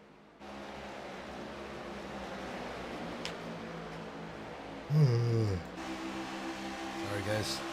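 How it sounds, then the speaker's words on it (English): A person gives a long, drawn-out yawn with a rising and falling voiced sigh, heard close over a steady background hum, followed by a softer murmur. "Sorry guys, keep yawning."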